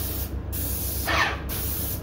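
Airless paint sprayer applying coronavirus disinfectant, giving a loud continuous spray hiss that briefly breaks off twice, close and alone without talk.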